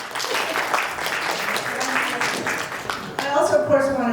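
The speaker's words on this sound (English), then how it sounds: "Tami, please accept our applause again." Audience applause honoring Tami at a breast cancer awareness event, a steady mass of clapping from a crowd that carries on with voices mixed in, then grows louder and brighter near the end.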